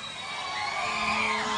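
A crowd in Bari cheers and shouts for the singer at an MTV TRL outdoor event, a steady, loud wash of voices and whoops that swells slightly toward the end.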